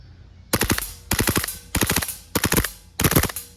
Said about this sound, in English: Let's try some burst fire.